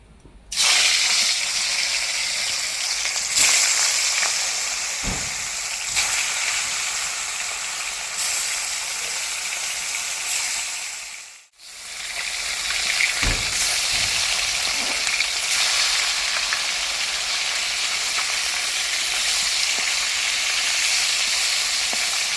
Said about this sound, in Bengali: কড়াইতে সাদা তেল দিয়ে দেব তেল গরম হয়ে গেছে এবার মাছগুলো ছেড়ে দেবো